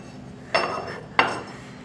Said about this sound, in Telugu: ఇది సెరామిక్స్. ఇది అయితే హెవీగా ఉంటుంది, బాగా వెయిట్ అన్నమాట ఈ గిన్నెలు ఇవన్నీను.